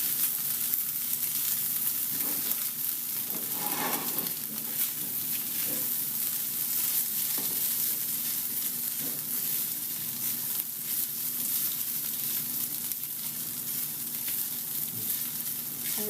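Tofu scramble with turmeric sizzles steadily in a pan as it is mixed and stirred, a close, continuous crackling fry with occasional scraping, no talk.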